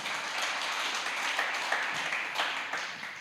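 A church congregation claps together during a worship service, a soft, steady wash of many hands heard from a distance for a few seconds, with a faint voice underneath.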